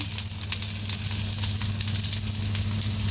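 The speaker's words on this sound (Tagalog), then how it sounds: "And now, time to cook the onion. Yan, time to fry the onion." Onion fries in a pan while cooking chicken wing curry, giving a dense, steady close-up sizzle with crackling pops over a low background hum, no voices.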